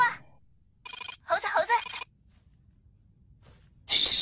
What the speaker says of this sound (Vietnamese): cậu dám không nghe điện thoại của tôi?